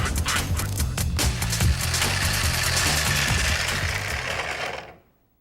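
A malfunctioning tile saw with its blade not turning grinds and rattles loudly and steadily, a rough, gritty mechanical churn like rocks tumbling inside, running unbroken for about five seconds before cutting off.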